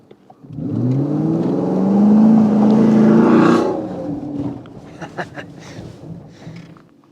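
A car engine swells as the vehicle approaches and passes close by on a snowy road, then fades into lighter road noise and clicks.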